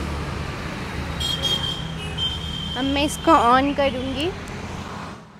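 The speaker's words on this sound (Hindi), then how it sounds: "यहाँ पे बहुत सारा ट्रैफिक है" Busy street traffic rumbles steadily in the background with a vehicle horn tooting a few times partway through, while someone talks close up over the noise.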